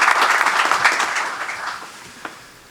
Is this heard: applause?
yes